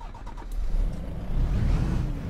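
A Dong Feng DFL 4251 truck engine in Euro Truck Simulator 2 cranks and catches, then settles into a low, rough running rumble close by.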